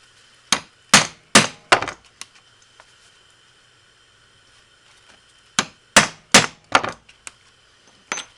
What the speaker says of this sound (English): punch 2 rivet holes